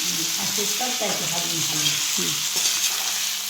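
Okra for a village-style masala bhindi fry is stirred and fried in a pan, giving a steady sizzle throughout with scraping stir sounds and faint murmuring voices underneath.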